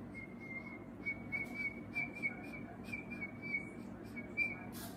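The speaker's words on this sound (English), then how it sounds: "I think my whistling is like super fucking low." A person whistles quietly, a thin wavering tone in short phrases with brief breaks, faint and close in an otherwise hushed room.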